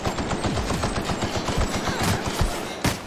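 Rapid automatic gunfire rattles in dense bursts during a firefight in The Outer Worlds, loud and close, with a few heavier single shots near the end.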